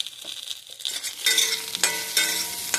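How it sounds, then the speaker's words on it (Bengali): Pointed gourd and potatoes frying together in a pan start with a quiet sizzle that swells into a louder, brighter crackle, with stirring scrapes and occasional sharp spits of oil. "ভাজা হয়ে গেছে, আর একটু ভেজে নামাবো"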